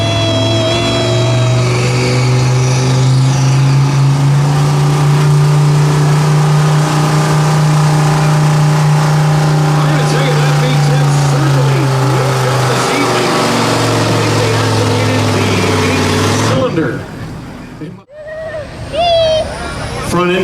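Truck-pull engine at a county truck pull, revving loud and sustained for over fifteen seconds with a steady droning tone, then cutting off abruptly before a few weaker bursts and crowd noise.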